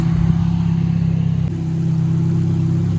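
Cars rolling slowly past at a car meet, among them a Ferrari F430, a loud steady engine drone close by with a brief dip halfway, then a rising rev.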